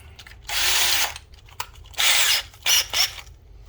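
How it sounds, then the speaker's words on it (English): A power drill bores holes into a Black & Decker string trimmer in several close, loud whirring bursts: one long run, then a second, then two short pulses, with quiet gaps between them. "I'm going to go get my drill and drill some holes"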